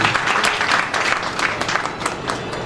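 Audience applause for dancers at an evening stage performance, a dense, loud round of clapping from a crowd filling the whole stretch.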